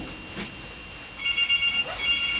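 A phone rings with a steady electronic ringtone, moderately close in a hotel room, repeating in short tonal bursts with no talk over it.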